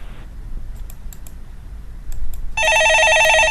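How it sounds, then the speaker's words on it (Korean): An incoming call rings on a telephone in a broadcast studio: after a few light keyboard clicks, a loud electronic warbling ring begins and continues steadily. "전화 받아보겠습니다"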